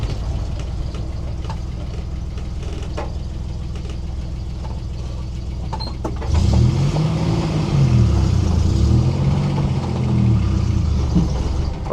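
1968 Dodge Dart daily driver with a sticking throttle, first idling quietly and then surging louder with a wavering, uneven engine note that swells and falls repeatedly.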